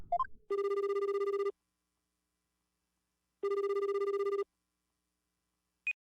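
A telephone rings in the video game Apollo Justice, sounding two steady, even electronic ring bursts about three seconds apart, followed by a brief high blip, with silence between.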